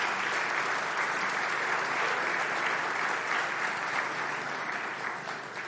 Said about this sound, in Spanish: Un aplauso a Katy